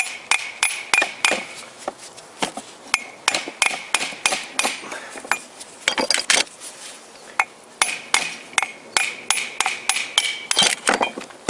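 Metal hammer blows ring out in quick irregular bursts as a bolt is hammered in on an OMC Evinrude 4 HP outboard motor, sharp clanking strikes repeated many times close by, with brief pauses between series.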